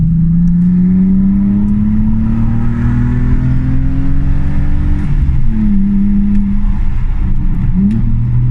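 A loud, raspy exhaust from a BMW E46 with a straight-piped backbox delete revs steadily higher, drops off, then is blipped again, close by and continuous.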